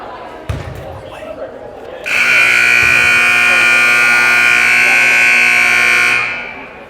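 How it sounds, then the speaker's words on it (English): A loud, sustained electronic buzzer sounds for about four seconds at a girls' varsity basketball scrimmage, preceded by a couple of ball bounces and faint gym noise, then cuts off. "So the buzzer sounds"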